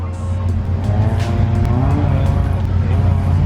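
A Mk2 Ford Escort with a swapped-in Toyota engine launches off the line. It gives a loud, sustained, close engine roar with possible tyre squeal, and a voice may be faintly heard beneath it.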